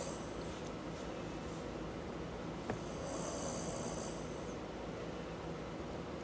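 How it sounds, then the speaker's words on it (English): A person snores in a bed, giving a steady, rough, low breathing drone that runs through the whole clip at moderate volume with no speech. "Who the fuck is snoring?"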